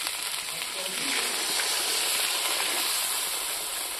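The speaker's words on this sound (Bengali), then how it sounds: "মশলাটা ভাজা ভাজা হয়ে গেছে" Spice masala for a country goat mutton curry fries in a pan at a picnic, giving a continuous close, hissing sizzle that stays fairly loud throughout.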